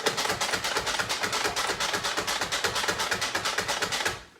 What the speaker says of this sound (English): So I have a whole onion in the manual processor.